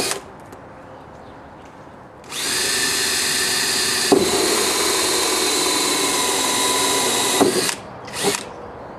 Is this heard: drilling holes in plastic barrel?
yes